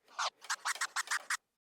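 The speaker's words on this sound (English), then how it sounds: "And the chirp scratch sounds like this." Rapid chirp scratches on a DJ turntable sample, about eight short clipped bursts in a quick stuttering rhythm, crisp and close, then silence, with no voices.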